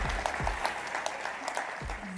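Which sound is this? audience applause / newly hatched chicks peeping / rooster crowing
audience applause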